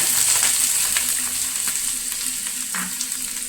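Loud, steady crackling sizzle of shallots and coconut frying in oil until browned, with occasional stirring scrapes, continuous throughout.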